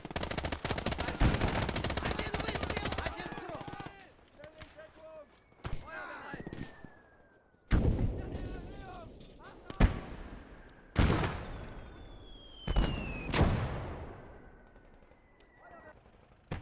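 Machine-gun and rifle fire in a Battle of Stalingrad video game: a dense, loud automatic burst opens, then isolated sharp shots and short volleys crack at irregular intervals, some with whistling shell sounds between them.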